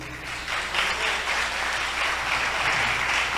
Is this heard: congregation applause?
yes